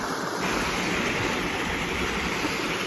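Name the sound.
waterfall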